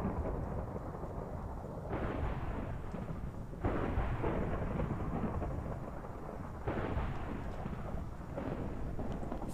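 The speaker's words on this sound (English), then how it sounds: "Flying in a thunderstorm doesn't seem like the greatest idea, but there's a lot of thundery weather on this server." Thunderstorm in the Minecraft FTB game, a continuous heavy rumble of rain and thunder that swells in waves and stays dense throughout, with no voices.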